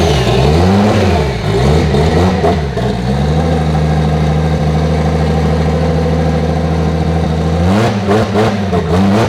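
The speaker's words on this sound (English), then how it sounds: "Engine sounds happy. She sounds good." A Toyota 1JZ engine swapped into a JZX100 revs at its first start-up with an exhaust fitted, loud and close, rising and falling in pitch, settling into a steady hold, then blipping sharply again near the end.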